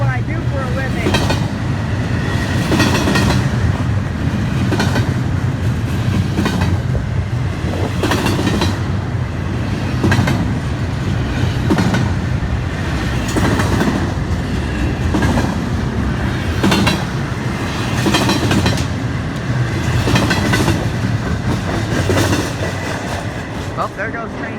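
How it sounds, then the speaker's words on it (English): Freight train 950, led by engine 421, rolls steadily past near Stuart while passing under the Roosevelt Bridge. Its loud, continuous rumble carries a rhythmic clickety-clack of wheels and a hollow echo throughout. "Listen to that echo of the train as it crosses over, as it passes under the Roosevelt Bridge."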